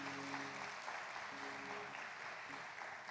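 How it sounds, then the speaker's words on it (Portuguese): A church congregation applauds in celebration during a festive service, sustained crowd clapping with faint tonal music or voices underneath. "Aplaude Ele em celebração, em nome de Jesus."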